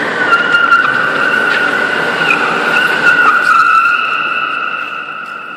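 A pickup truck drifting, its tires squealing in a loud sustained high screech that wavers in pitch over an engine roar, close by and fading slightly toward the end.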